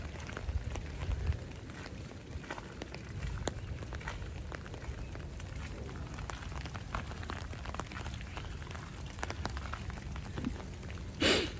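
Rain falling at the Seattle Chinese Garden, a soft, steady, fairly faint patter heard outdoors, with scattered footsteps and small knocks and a sharper noise near the end.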